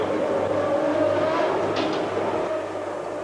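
Ayrton Senna's Formula One race car engine runs in the pit lane, a steady loud mechanical drone with a constant low hum, close by and without voices.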